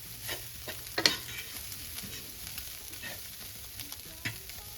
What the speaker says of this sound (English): I find it helps when you cook your spices a little bit.